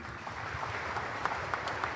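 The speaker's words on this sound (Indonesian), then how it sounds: "Jadi tepuk tangan sekali lagi." Audience applause at a graduation ceremony for village-school graduates, dense and steady with scattered individual claps standing out, moderately distant and filling the whole stretch without voices.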